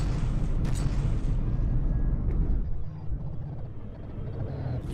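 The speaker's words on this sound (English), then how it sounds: "that last gun is under fire" Battleship gunfire and explosions from a naval battle in the game From The Depths roll on as a dense, continuous low rumble with a few sharper bursts early, loud and steady before easing slightly near the end.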